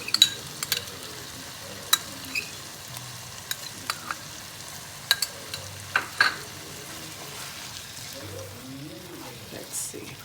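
Chicken bhuna cooking in its own juices in a pan gives a soft, steady sizzle, broken by scattered sharp clicks and taps of a spoon. Faint background noise sits underneath, with no words spoken.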